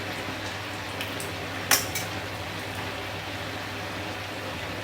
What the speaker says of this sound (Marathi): छान वडे तळून होत आहेत